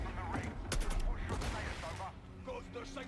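Vector submachine gun fire in a Call of Duty game trailer: a rapid burst of close, sharp automatic shots followed by a few scattered reports and mechanical clatter, with faint voices in the mix.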